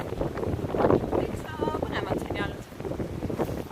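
Wind gusts buffet the microphone at a hilltop lookout in Phuket, a rough rumbling roar rising and falling, with faint voices mixed in.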